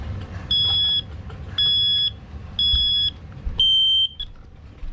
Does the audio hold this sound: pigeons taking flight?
no